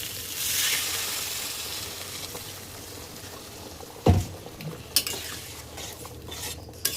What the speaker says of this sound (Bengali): আমার ভালো করে কষানো হয়ে গেছে, এবার দিয়ে দিন জল।